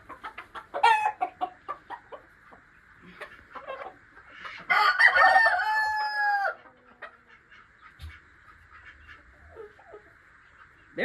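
Backyard chickens cluck in repeated bursts while their feathers are clipped. A loud, close rooster crow stretches through the middle, and quieter clucks trail off afterward.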